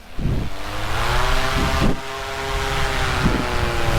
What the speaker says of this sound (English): now to go take off, we're gonna start the throttle and we're gonna lean back